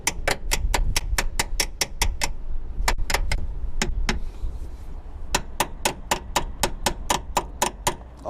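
A ratchet taps a seized, rusted brake line fitting on a VW Golf Mk5 in quick sharp metallic clicks, fired in bursts of rapid strikes with brief pauses, close and loud over a low background hum.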